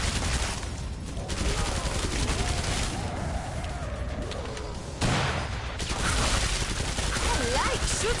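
Killing Floor 2 gunfire, rapid sustained automatic bursts from close range, nearly continuous with brief gaps, with a voice speaking over the shooting.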